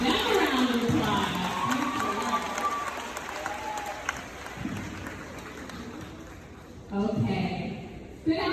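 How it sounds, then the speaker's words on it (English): An audience at a middle school graduation applauds in a broad burst of clapping that fades, and a voice speaks over the quieter stretches before another short round of clapping. "Let's go ahead and give them a round of applause."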